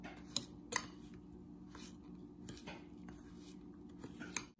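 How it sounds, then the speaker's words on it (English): A metal fork taps and scrapes against a bowl while mixing ground cinnamon and a pinch of salt for homemade cinnamon rolls, giving faint, sparse clinks and a couple of sharper hits close by. "Then take a fork and mix it all together."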